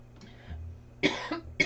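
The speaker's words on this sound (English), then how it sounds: "Why am I coughing all of a sudden?" Two sharp coughs close by, the second a short burst after a brief pause, following a faint throaty sound.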